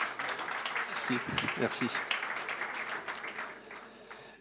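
Audience applause at a business conference on finding meaning in work, a steady wash of clapping from a room of people with a presenter's voice speaking over it.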